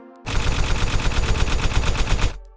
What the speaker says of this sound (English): creating the gunshot sound